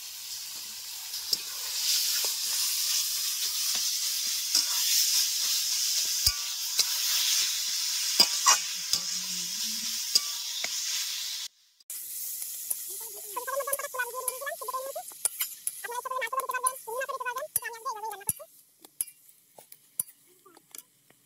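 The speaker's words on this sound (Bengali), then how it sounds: "লাল লাল করে পেঁয়াজগুলো ভেজে নিলাম। এবার কচু শাকগুলো দিয়ে দিলাম, সিদ্ধ করা কচু শাকটা দিয়ে দিলাম।" Boiled taro leaves go into a pan of reddish-fried onions, giving a steady sizzle with stirring and utensil scrapes, then a pause and quieter stirring clatter near the end, no talk.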